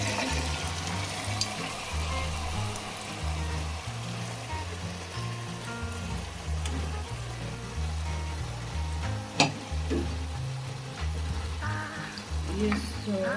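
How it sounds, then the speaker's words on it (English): Boiled pork, already salted with turmeric, fries with masala in a pan, giving a steady close sizzle with occasional stirring clatter; background music plays throughout. "So now I will fry with all the masala."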